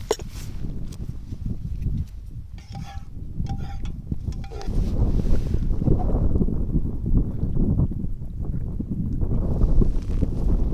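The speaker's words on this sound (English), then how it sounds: "It's just too windy." Strong wind buffets the microphone throughout at a winter wild campsite, a steady low roaring rumble that swells louder in the second half, with no speech.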